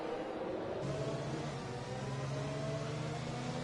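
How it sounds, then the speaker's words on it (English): A Formula race car engine in a racing video game drones with a strained, uneven whine, its pitch wavering as though bogging down, caused by a game bug. "The engine struggling thing that you're hearing is a bug in the game"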